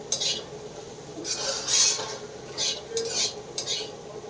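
Frying potatoes being stirred in a pan: soft scrapes and clinks of a utensil against metal come in short irregular bursts over a faint low sizzle, close by with no talking.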